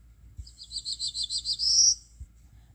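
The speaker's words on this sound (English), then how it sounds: "birds with similar songs include the black-throated blue type A3," Black-throated blue warbler song, type A3, played back from a warbler app: a series of about nine buzzy, high-pitched rising notes ending in a brighter, louder upslurred buzz, clear and close with no talk.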